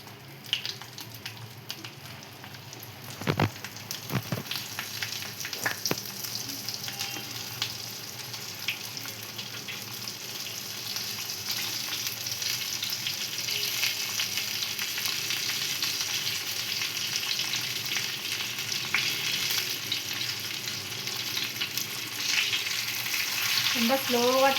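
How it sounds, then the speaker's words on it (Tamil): Eggplant pieces frying in hot oil in a pan with popped mustard seeds for an oil-style brinjal curry, a steady close sizzle rising a little over time, with a few sharp clatters of stirring early on. "கடுகு பொரிஞ்சிடுத்து. இப்போ நம்ம ஒன்று ஒன்றா ரொம்ப ஜாக்கிரதையாக போடணும்."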